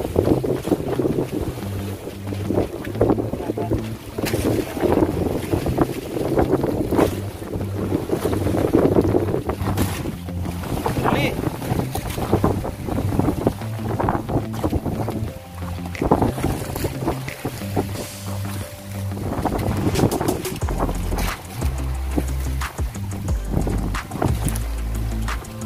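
Strong gusting wind roars across the microphone at sea, with waves sloshing and a boat creaking for a long, continuous stretch.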